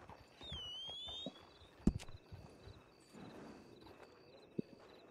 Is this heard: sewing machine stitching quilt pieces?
no